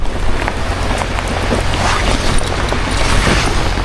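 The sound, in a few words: rain and waves on a lake while camping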